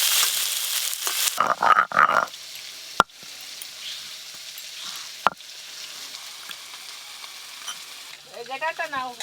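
Small river fish fry in hot oil in a home kitchen, a soft crackling sizzle with scattered pops and a couple of sharp knocks, brief faint bursts of other noise breaking in.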